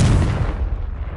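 A Confringo blasting spell exploding in Hogwarts Legacy, one loud deep boom that rumbles and decays over about a second.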